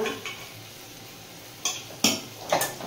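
A spoon stirs fried vegetables into a pot of rice and lentil khichdi, making a soft cooking hiss and then three sharp scraping clinks against the pot near the end.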